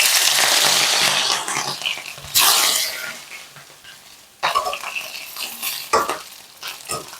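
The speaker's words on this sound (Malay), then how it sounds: "udang ni kita goreng sekejap sahaja" Shrimp sizzle and crackle loudly in a hot oiled wok for char kuey teow, with bursts of stirring and scraping that flare up several times before settling into a steady hiss.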